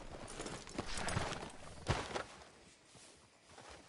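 Horse hooves clip-clop at a walk in a PS4 video game, with a few soft, uneven thuds heard faintly at low volume before they fade away.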